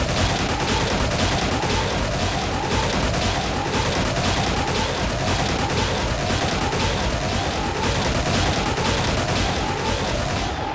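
Dense, sustained gunfire fills the turn-based alien-combat game Xenonauts 2, loud and continuous with repeating rising whooshes or bursts about once a second over a constant roar.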